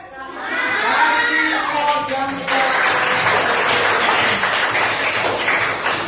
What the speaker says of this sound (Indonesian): Kasih aplaus untuk Mas Juli yang sudah membantu